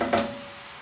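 A vegetable base for a zander dish fries in a pan, giving a brief close sizzle with a quick stirring scrape near the start that settles into a steady low hiss.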